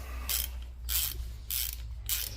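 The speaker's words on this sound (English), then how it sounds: "Tighten it down evenly in a crisscross pattern" Ratchet wrench tightening the bolts on a Mustang T5 transmission, 1985–2004 era, in a crisscross pattern: four short bursts of quick clicking ratchet strokes, evenly spaced, close by over a low steady hum, with no talk.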